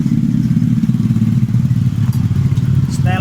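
A Yamaha Soul GT 125 motorcycle with a sputtering, bogging fault idles during tuning: a close, steady low-pitched engine rumble with a fast even pulse and light clatter, a faint tick near the end.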